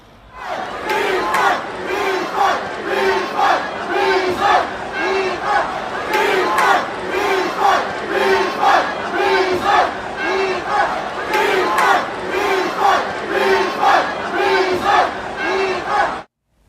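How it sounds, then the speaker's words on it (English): A large crowd chants loudly in a steady repeated two-beat rhythm, the angry voices rising and falling together without pause. "They started chanting refund during the match."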